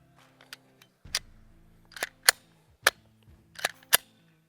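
Sharp cracks from a PSA Dagger pistol firing live rounds, about six reports in irregular succession, some paired, each with a short ringing tail, no talking.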